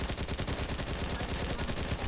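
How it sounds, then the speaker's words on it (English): An UMP 45 fires rapidly in a video game, a dense, loud, continuous burst of shots with an even rhythm. "that's the new UMP 45 fire rate"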